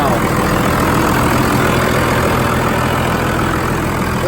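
Dodge Cummins turbo diesel pickup truck engine idling steadily after a fresh start, a loud continuous low rumble close by with no talk over it.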